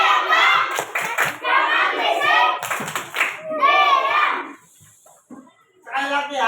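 Children in an Indonesian classroom clap the patterned 'tepuk diam' rhythm, sharp hand claps woven through a loud group chant, with a brief pause before the chanting and clapping start up again.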